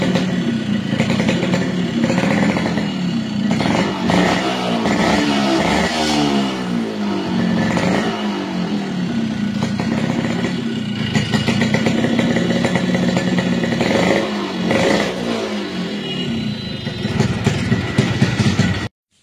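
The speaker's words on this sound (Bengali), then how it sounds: "এখন আমরা আপনাদেরকে এই বাইকের সাউন্ডটা দেখাবো" A Yamaha RX 100 motorcycle engine runs steadily and loud up close for about nineteen seconds, its drone shifting in pitch with a few throttle swells and no talking over it.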